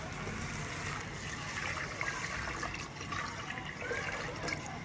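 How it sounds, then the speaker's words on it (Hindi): Water pours steadily into a cooking pot of chicken daal, a continuous splashing rush that stays close and fairly loud, with no voices. "तो अभी इसके अंदर जो है ना पानी डालते हैं।"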